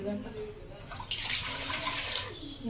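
Water pours in a steady splashing stream for a couple of seconds, close by, while making junnu milk pudding, following a brief moment of quieter background sound.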